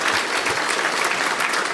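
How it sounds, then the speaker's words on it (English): Short burst of dense, lively applause from a conference audience at a hacker convention talk, loud and close, sustained evenly throughout without speech. "Give him a round of applause"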